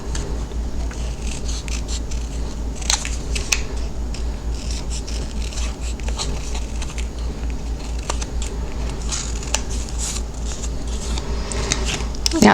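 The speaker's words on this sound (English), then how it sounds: "So I'm going to go ahead and just fussy cut some of this edge." Scissors fussy cutting along a paper edge at close range, a series of small crisp snips and rustles over a low steady hum, with no talking.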